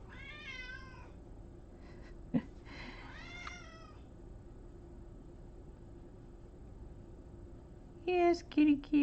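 A house cat meows softly indoors, a couple of short calls near the start and a louder cluster of meows at the end, with a faint pencil-on-paper background and quiet moments between.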